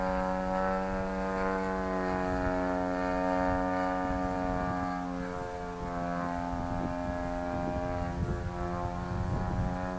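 A radio-controlled model airplane flies at an RC field, its engine holding a steady droning buzz throughout.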